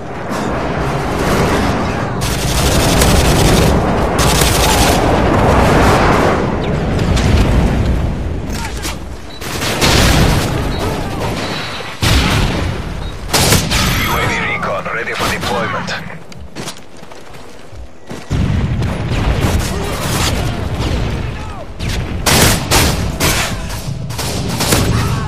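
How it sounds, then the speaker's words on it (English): Heavy gunfire and booming airstrike explosions fill a Call of Duty: Modern Warfare 3 team deathmatch, loud dense bursts and blasts with brief lulls, and a voice briefly heard amid the chaos. "Friendly airstrike on the way."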